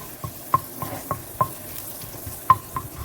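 Sharp crackling pops from leek frying in a pan, irregular and fairly close, over a soft steady hiss with no voices.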